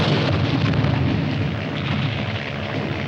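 Artillery fire explodes in a dense, continuous rumbling roar of overlapping booms, loud and heavy, with a low droning undertone throughout.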